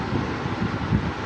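A southerly wind blows around a building, rumbling and buffeting the microphone in low, uneven gusts with no talking.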